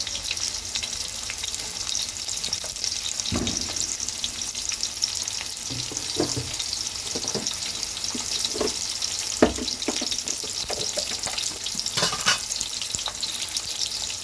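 Chopped onion and green chillies frying in a pan for a chicken fry biryani: a constant loud sizzle with repeated scraping strokes of a stirring spoon, no voices.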